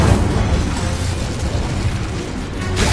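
Incendio fire spell firing in the Hogwarts Legacy game, a dense roaring burst of flame that fills the whole moment with a loud, continuous booming rush, swelling again at the very end.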